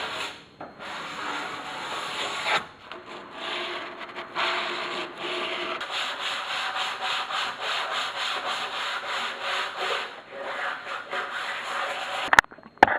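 Six-foot and three-foot wooden boards for raised garden beds are sanded by hand in a steady, continuous rubbing scrape up close, with brief pauses and a sharp clatter at the end.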